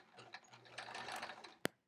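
Close, steady mechanical whirr of a sewing machine running through a free-motion quilting pass on a baby quilt with couched stars, stopping abruptly with a sharp click near the end.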